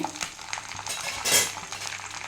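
Fennel seeds and whole spices fry in hot oil in a pan for chicken biryani, a soft, continuous sizzle with the occasional scrape and clink of a stirring spoon.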